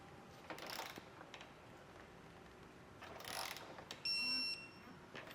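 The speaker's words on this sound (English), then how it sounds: "We're going to make sure and come back with a torque wrench now and tighten down all that hardware" A torque wrench tightening trailer hitch hardware on a 2024 Honda Odyssey, with two faint bursts of ratcheting clicks and then a brief sharp tonal click as the wrench reaches torque, quiet and without talk.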